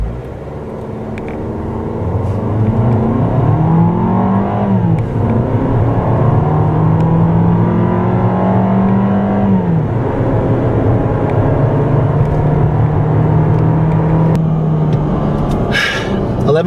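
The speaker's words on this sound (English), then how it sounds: "when the turbo does spool up, it has really good passing power" A 2014 Fiat 500L turbo accelerating hard from 0 to 60 mph gives a loud, steady interior engine drone that rises in pitch through several gear changes, with a voice talking over it at times.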